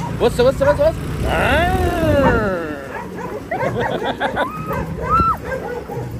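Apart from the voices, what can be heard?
dog barking outside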